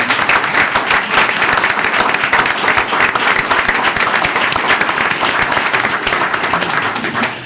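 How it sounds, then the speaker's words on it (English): A room full of people at a city council meeting in Gaithersburg claps steadily for the police chief after his speech, dense and loud with no gaps for the full seven seconds. "Give him another round of applause."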